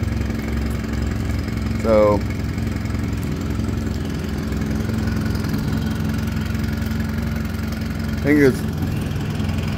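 A 1997/98 Mercury (Yamaha) 9.9hp four-stroke outboard motor idles with a steady, even putter throughout, heard up close while someone speaks briefly over it.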